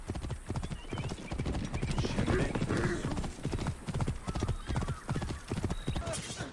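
Steady clip-clop of horse hooves at a brisk gallop in the video game Assassin's Creed Origins, close and loud, with a whinny mixed in over a busy background.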